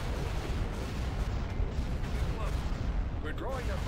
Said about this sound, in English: Alright, fire the spat cannon.